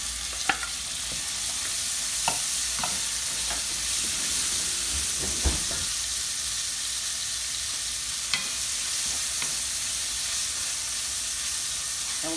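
Mixed vegetables sizzle in a hot pan for yellow rice, a steady bright frying hiss with occasional scrapes and clinks of a utensil stirring, close and continuous with no talking.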